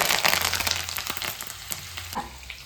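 Onion and curry leaves frying in hot oil for a North Karnataka brinjal palya, a steady crackling sizzle with stirring clicks, close and alone.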